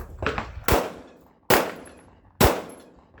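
Three sharp gunshots from 115 grain rounds, loud and close, spaced under a second apart with echoing tails, plus a faint earlier clatter of handling.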